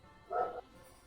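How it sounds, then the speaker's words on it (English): A single short dog bark from a street dog, faint and distant, standing alone over quiet background. "It's a dog on the street, and it ain't even mine"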